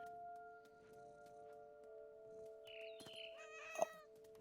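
A cat in the video game What Remains of Edith Finch meows and caterwauls in a short rising cry near the end, over steady tonal game music and ambience.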